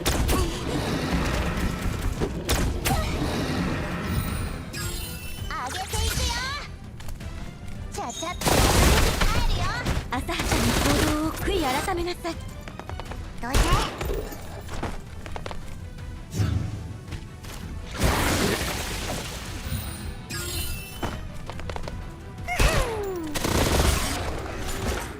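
Gunfire in the Girl's Frontline 2 video game, loud sharp blasts and bursts scattered through a dense, busy mix of game effects, with talk over parts of it.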